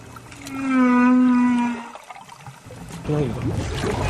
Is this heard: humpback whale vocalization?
yes